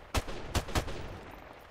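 Three sharp gunshots in Modern Warfare Remastered during a 2v2 tournament match, evenly spaced within about a second, fairly loud, followed by quieter game background.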